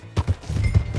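Horse hooves in Red Dead Redemption 2 clop in a quick uneven rhythm of several soft, close thuds over about a second, with no talking.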